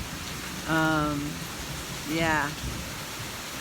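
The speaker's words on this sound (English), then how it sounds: "You hear that rain coming down?" Steady rain falling outdoors, an even hiss across the whole clip, with two brief spoken words rising over it.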